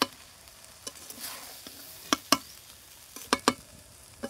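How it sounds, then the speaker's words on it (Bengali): Basmati rice coated in ghee and turmeric frying over low heat in a pan, a soft background sizzle broken by scattered sharp scrapes and clinks of stirring. "উনুনের আঁচ কমিয়ে 2-3 মিনিট সময় নিয়ে ভেজে নেব"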